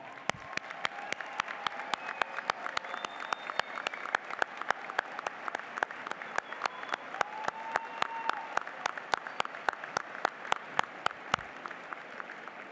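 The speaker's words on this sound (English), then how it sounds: "Let's give them a round of applause." An audience at a 2026 Dearborn Heights District 7 graduation commencement gives a sustained round of applause. Dense, continuous clapping runs throughout, with individual sharp claps standing out near the front and no voices over it.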